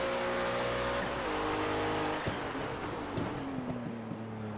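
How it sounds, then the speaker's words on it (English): Race car in a sim racing broadcast at Sebring, engine droning steadily and downshifting under braking with sharp backfire crackles, close and loud throughout. "Flames coming out under brakes with the backfiring of the vehicle as well."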